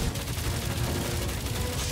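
Rapid, continuous gunfire in the Guardians of the Galaxy video game, a dense unbroken barrage of overlapping shots held at a loud, even level throughout.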